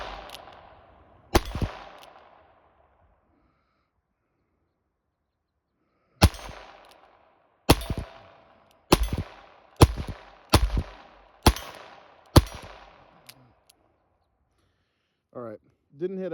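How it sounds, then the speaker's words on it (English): A handgun fired one-handed at a target: two sharp, loud reports, a long silence, then a quick series of about seven shots, each ringing briefly. A short voice follows. "I'm going to take a couple shots like that so you guys can see."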